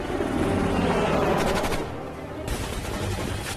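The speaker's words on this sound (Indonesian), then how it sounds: "sebuah heli datang dan kemudian menghujani mereka dengan tembakan" Rapid bursts of helicopter machine gun fire in the film Shooter (2007) crackle loudly over a dense rumbling backdrop, with a helicopter drone and repeated volleys of shots.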